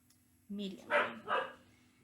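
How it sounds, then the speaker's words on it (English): A dog barks indoors in three quick, fairly loud yaps spread over about a second, with a quiet room around them and no talk. "And that's our dog's losing her mind."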